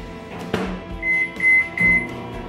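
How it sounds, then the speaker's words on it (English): A microwave oven hums steadily while heating water, with a few short high-pitched beeps near the end and a click or clunk early on. "put your warm water into the microwave in 15 second increments until it begins to steam."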